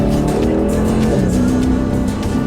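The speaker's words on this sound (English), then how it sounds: "there was some spinning of the tires in first gear there" A 503 hp car pulls hard in first gear with its tires spinning, the loud engine roar steady and close throughout with a rising harmonic drone.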